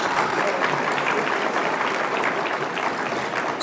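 Sustained applause from a luncheon audience in a ballroom, a dense steady wash of clapping from many hands that holds evenly throughout.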